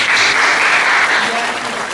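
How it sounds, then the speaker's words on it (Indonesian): An audience at an MC school performance breaks into loud, dense applause right away, a close and continuous wash of clapping that eases off slightly toward the end. "mari kita tepuk tangan terlebih dahulu."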